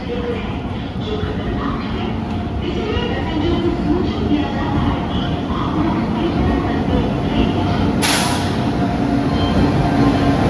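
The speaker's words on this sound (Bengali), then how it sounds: "দেখা যাক ট্রেনটা আসুক কী অবস্থা দেখি" Kamrup Express passenger train pulling into New Jalpaiguri (NJP) station: a steady broadband rumble of rolling wagons and rail noise fills the whole span, with a brief hissing burst near the end and faint platform voices underneath.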